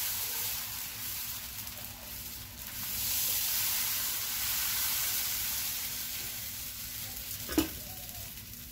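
Dosa batter sizzling on a hot nonstick tawa, a steady broadband frying hiss that swells slightly midway, with one brief sharp clack near the end; no talking.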